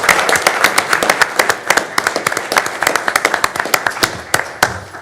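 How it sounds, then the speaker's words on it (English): An audience at a Board of Commissioners meeting applauds, with many sharp, close hand claps overlapping in a brisk, steady stream throughout. "we could give a round of applause for that"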